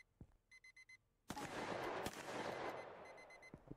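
An electronic alarm clock beeps in short rapid bursts, then a loud crashing burst of noise breaks in and the beeping resumes faintly near the end.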